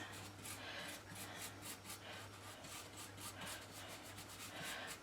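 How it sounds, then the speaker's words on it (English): A brush scrubs finish into the nooks of an ornate frame in quick repeated back-and-forth strokes, a faint close-up rhythmic rubbing over a low steady hum, with no talk. "I need a brush to get in all nooks and crannies. So I'm just going to apply this."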